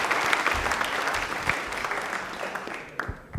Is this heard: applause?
yes